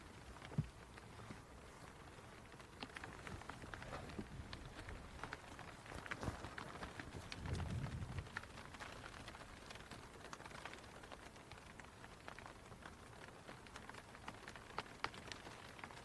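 Steady rain falls on a golf course during an English amateur championship match, a faint, dense patter of drops with a few scattered louder taps and a soft low rumble midway.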